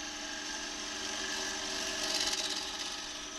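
A wood lathe turning a bowl, with a steady mechanical hum and a gouge scraping the spinning wood that grows slightly rougher toward the end, fairly quiet and without voices.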